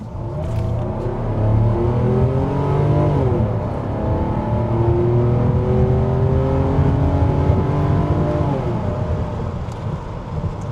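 A 1997 Mercedes SL600 V12 engine revs hard and loud, rising and falling in pitch through several sweeps, a smooth continuous roar with no talking.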